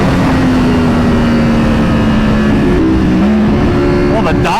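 A Ducati Panigale V4 motorcycle engine roars loudly as the rider downshifts, the steady high drone dipping and jumping with quick rev blips near the end.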